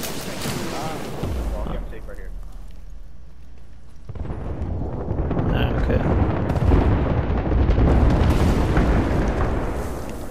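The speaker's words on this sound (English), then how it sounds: "Fade, you got an airstrike on them." Airstrike explosions in a video game, loud booming blasts and rumbling debris rolling on and off, with heavy low-end bursts building toward the end.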